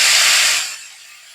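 Chopped amaranth stalk greens hit hot tempered oil with a loud, close hiss of steam and sizzle that fades quickly and settles into a quieter simmer.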